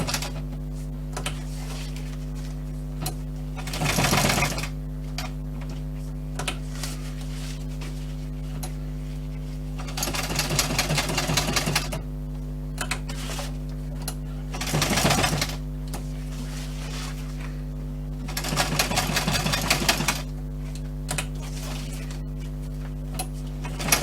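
Sewing machine stitching a strap onto a simple bushcraft water bottle and utility pouch, running in several short bursts of rapid stitching between quieter stretches with a steady low hum underneath, no talking.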